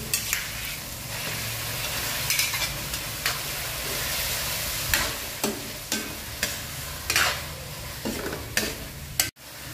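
Fresh squid hitting a pan of cooked tomato, onion and garlic sizzles steadily, with repeated scraping stirs and clatters of a spatula close by; no talking.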